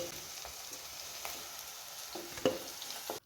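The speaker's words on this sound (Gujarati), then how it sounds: "તો આ રીતે તમારે ભીંડાને ત્રણથી ચાર મિનિટ તેલની અંદર ફ્રાય કરવાના છે" Okra frying in oil in a pan, a soft continuous sizzle with a few light stirring scrapes and one sharper clink near the end, heard faint and without talk.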